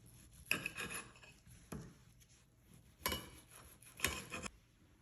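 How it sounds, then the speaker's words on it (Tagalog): A knife cuts through fried chicken breast on a board in several short, faint scraping strokes, about four separate cuts with pauses between, no voices. "hiwain ko itong pinirito kong chicken breast"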